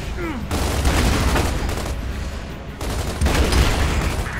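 Sustained gunfire in the video game Gears of War 2, dense bursts of loud shots filling most of the clip with brief gaps, while players talk over it.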